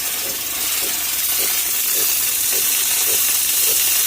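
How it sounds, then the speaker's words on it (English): A coffee machine's steam wand hisses from a cold start, a loud continuous dry rush of steam with a faint rhythmic pulsing ticking underneath at regular intervals. "oh, the steam is pretty dry."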